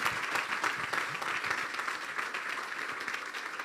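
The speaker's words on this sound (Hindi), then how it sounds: "ज़ोरदार तालियां बजाएंगे हम यीशु के जलाल के लिए।" Enthusiastic congregation applause at a Good Friday church service, a steady, dense patter of many hands clapping at moderate distance, continuous throughout with little other sound.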